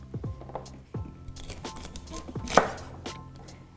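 Celery being chopped into pieces with a knife on a board ahead of juicing, a run of crisp, irregular cutting knocks close by with one sharper crunch partway through, and no talking.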